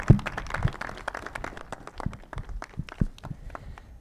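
Sparse, scattered clapping from a small audience greets the rector of the Universidad Nacional del Altiplano at an inauguration in Puno, with irregular claps of varying loudness and nearby shuffling sounds.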